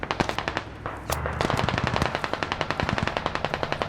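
Rapid automatic gunfire in the video game Squad, loud close bursts of machine-gun fire with a brief pause before a long continuous rattling stream.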